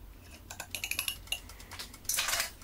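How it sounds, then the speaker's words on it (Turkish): Egg and two spoonfuls of yogurt whisked in a bowl for a pide dough, a quick run of light metallic ticks and clinks rising to a denser burst of scraping, close and alone. "Hepsini güzelce çırpalım."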